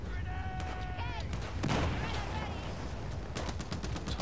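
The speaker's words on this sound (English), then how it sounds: "Type 88 LMG." Type 88 LMG light machine gun firing in Battlefield 4 in Singapore, bursts of rapid shots mixed with battle noise and other gunfire, fairly faint and continuous.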